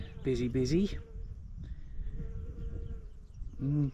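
An insect buzzes among deep purple meadow flowers, a faint, wavering drone running under intermittent nearby talking.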